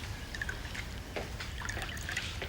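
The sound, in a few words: pouring cool drinks into glasses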